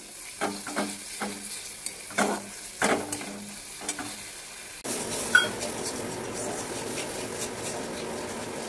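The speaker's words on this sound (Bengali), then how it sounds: "এখানে হচ্ছে গিয়ে পনিরের তরকারির মশলা কষানো" Spice paste for a paneer curry sizzling and frying in a pan, with scraping stirs punctuating the first half before a louder, steady sizzle takes over; no talking.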